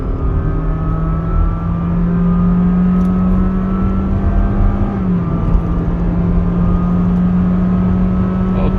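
A 2021 Honda City RS e:HEV hybrid accelerates in hybrid mode, engine and electric motor working together, droning loudly and steadily, its pitch holding then shifting slightly, with a smooth whirring hum throughout.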